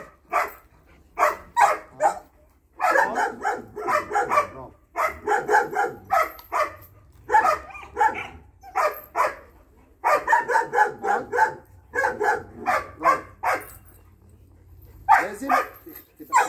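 A dog barks loudly and close by in repeated clusters of sharp barks separated by short pauses, continuing steadily throughout.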